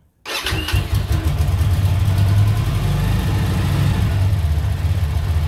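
An Aquila 300 motorcycle engine cranks and catches abruptly with the throttle slightly open, then settles into a steady, rumbling idle close by, with no talking.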